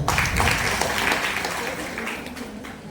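An audience at a state-level award ceremony in Davanagere claps steadily in a dense, continuous wash of applause that fades slightly toward the end.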